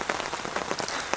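Steady rain patters onto the surface of a weedy carp-fishing lake, a dense hiss of countless drops with scattered louder splashes, close and constant, with no voices.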